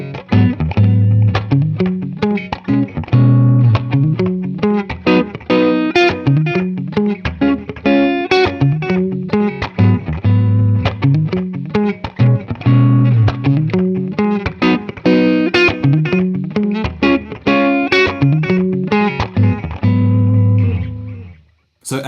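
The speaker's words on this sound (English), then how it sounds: "So as you heard, just a really lovely sounding analog delay pedal." Yamaha Revstar electric guitar played through a J. Rockett Clockwork Echo analog delay pedal, a continuous, loud passage of picked notes and chords with echoing repeats, ending in a brief drop-off.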